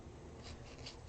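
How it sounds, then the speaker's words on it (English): Scissors snipping through folded deco mesh on a diagonal for a Christmas garland, a soft close rustling cut ending in a sharp snip. "Folding in half, and we're cutting diagonally"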